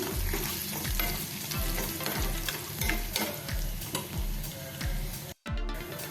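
Spices stirred into a mixture in a pan, a sizzling, frying background with steady rhythmic scraping strokes of a spoon, close up, with a brief cut near the end.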